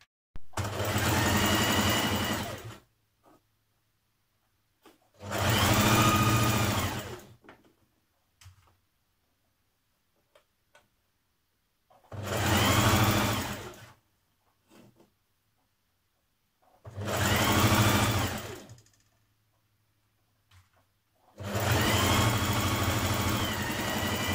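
A sewing machine stitches fabric seams in five separate bursts of a few seconds each, with quiet pauses between runs, close and clear with no talking.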